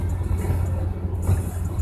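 Steady low rumble of a car driving along a road, a continuous engine and road drone with a brief swell near the end, heard from inside or near the vehicle.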